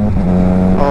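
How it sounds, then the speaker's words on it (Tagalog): Triumph Trident 660 motorcycle with a Zard exhaust during a quickshift upshift, a loud, close, steady engine drone with a brief change in pitch near the end. "maingay din tong tambutso ng motor"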